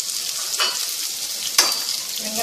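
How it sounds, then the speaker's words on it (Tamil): Onions and green chillies fry in a pan for foxtail millet fried rice. A steady close sizzling hiss runs throughout, with two brief louder bursts as the pan is stirred. "கீரை 4 மிளகாய் போட்டுடலாம். கூடவே வெங்காயம் போட்டுடலாம்."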